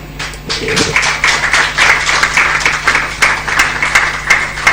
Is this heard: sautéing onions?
no